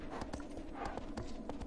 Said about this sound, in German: Halt mal, Pferdchen.